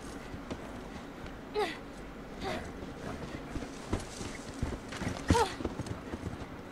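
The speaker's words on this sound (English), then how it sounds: "a horse. I was about to say, I thought that was a deer." Horse hooves in The Last of Us video game, soft scattered clip-clop steps over a quiet ambient background, with a few louder hoof hits standing out.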